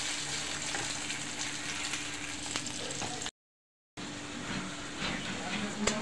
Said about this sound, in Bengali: এটাকে আমি ভেজে নেব এখন।